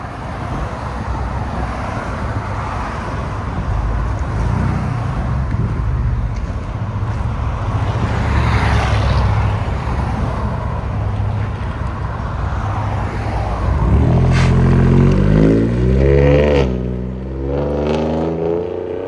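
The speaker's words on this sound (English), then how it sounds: "That's what a muffler delete on a Raptor sounds like." A 2019 Ford Raptor with a 3.5L twin-turbo V6 and a deleted muffler rumbles loud and close. Steady exhaust roar and wind noise build into a deep, rising rev near the end.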